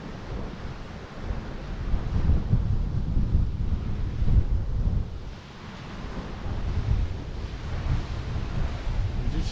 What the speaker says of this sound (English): I always like to see the waves crashing against the rocks.